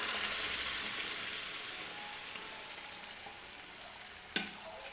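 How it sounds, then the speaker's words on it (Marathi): Cooked dal tipped into a hot tadka in a kadhai gives a soft sizzle and frying hiss that fades slightly over a few seconds, with a brief stir clatter near the end, no talk. "तर हे बघा, ही डाळ आता मी कढईमध्ये टाकून घेते."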